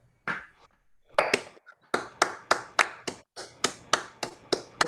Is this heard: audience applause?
yes